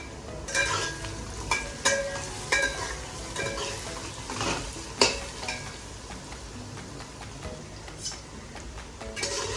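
Potatoes and onions fry in a pan for an egg biryani, giving a steady soft sizzle with scattered sharp clinks and scrapes of a spoon stirring against the pan, close and moderately quiet, with no talking.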